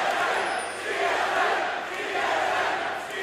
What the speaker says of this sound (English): TSM definitely audible through the noise of the crowd